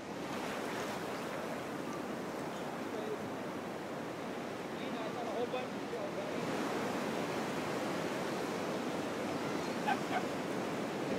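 Ocean waves wash against a floating dock fitted with rolling wheels that flex in the water, producing a continuous, fairly even rush of surf throughout.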